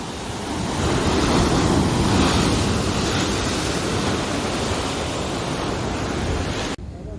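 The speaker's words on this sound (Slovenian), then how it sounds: "Those are some big fucking waves." Big Atlantic Ocean waves crash and roar continuously at a beach in Porto, a loud, dense surf rumble with heavy wind buffeting the microphone, cutting off abruptly near the end.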